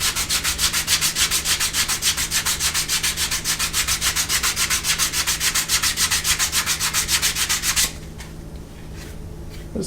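Rapid, steady back-and-forth sanding of leather for a bi-fold wallet, a close, loud rhythmic rasp with fast even strokes that stops abruptly near the end, leaving quieter rustling.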